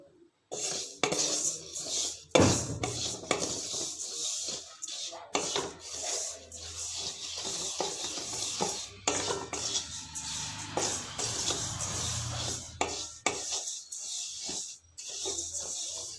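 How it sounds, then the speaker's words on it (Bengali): Cumin seeds dry-roasting in a wok, stirred with a utensil, making repeated scraping and rattling strokes against the metal over a soft, continuous background. "খুব কড়া করেও ভাজবো না, আবার"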